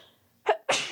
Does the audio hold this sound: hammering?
no